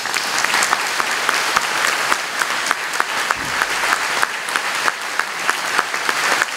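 An audience at a French public meeting on public health services gives sustained, dense applause that stays loud and even throughout, with scattered sharper claps and no voices.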